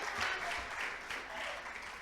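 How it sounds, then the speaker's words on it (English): An audience claps steadily as a presenter makes her way to the stage at a conference session, a continuous mid-level patter of many hands held throughout. "Can we continue the round of applause as she makes it to stage,"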